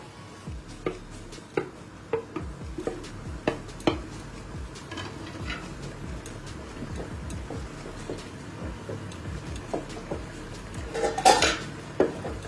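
Pointed gourd pieces go into a pot of korma gravy, followed by a run of sharp metallic clanks and scrapes of a spoon and utensils against the pot, then a louder clatter near the end as the lid goes on.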